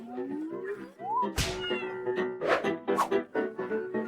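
A cartoon cat gives a single drawn-out meow with a rising pitch, followed by a short burst and several bright chirpy vocal sounds, all fairly close and alone without talk.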